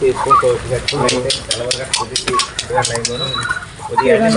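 Ducks and chickens, including black hens, clucking and squawking in a busy cluster in a village, close by, with a person talking over much of it.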